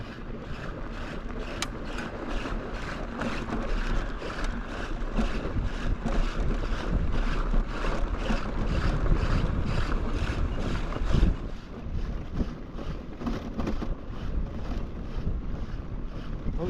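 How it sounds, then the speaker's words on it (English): Strong wind buffeting the microphone during an e-bike ride on Brindle Mountain, a loud continuous roar with gusty surges and a rattling, fluttering texture throughout. "At least the wind is blowing and blow drying my shirt."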